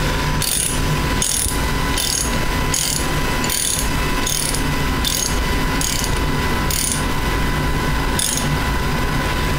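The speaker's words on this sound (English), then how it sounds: "now I'm going to return the substrate holder and propeller up to the 30 millimeter height" A substrate holder and propeller being raised in an ATC Orion 5 UHV magnetron sputtering system, a loud mechanical ratcheting with regular clicks repeating about every second over a steady hum.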